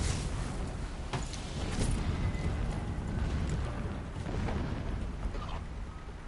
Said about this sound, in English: And there's explosions going on.